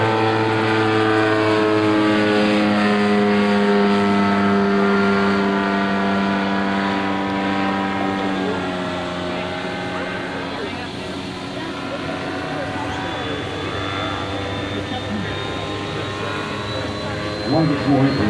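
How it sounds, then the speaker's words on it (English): An autogyro with an unpowered rotor and no tail rotor drones overhead at a 2000 rotorcraft flying event, its steady engine tone loud and sustained, then slowly shifting in pitch as it passes, with talk underneath. "You'll notice there's no tail rotor on these Autogyros."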